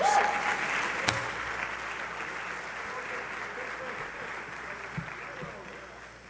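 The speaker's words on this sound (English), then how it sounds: "Let's give a round of applause for your Morehouse brother, Cedric Thorbs." Steady audience applause at a college Crown Forum gathering, welcoming a speaker, a continuous wash of clapping that fades slightly, with a sharp knock near the start and faint voices within.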